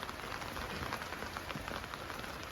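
Rain falling outdoors in the monsoon, a soft, steady patter of drops on surfaces that holds an even level throughout, fairly quiet, with no talking.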